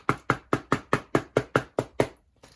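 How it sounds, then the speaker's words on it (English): Ten sharp, evenly spaced knocks on a door, loud and close, each with a quick decay, followed by a brief pause and a faint trailing knock. "Knock, knock, knock, knock, knock, knock, knock,"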